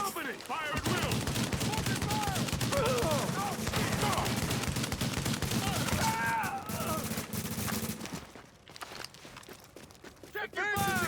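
Sustained video game gunfire: rapid overlapping bursts and volleys, fairly loud and continuous, with shouted voices and chatter mixed in and a brief lull near the end before the shots pick up again.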